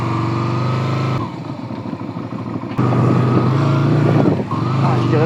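A 1997 Yamaha Virago motorcycle being ridden, its loud steady engine drone shifting as the throttle drops and then picks up again, close and continuous throughout.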